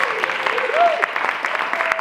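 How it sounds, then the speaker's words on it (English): Audience applause at a live comedy show, a steady dense wash of clapping throughout, with a few voices and a brief whistle-like tone riding over it. "Big round of applause for Bill, who got this together."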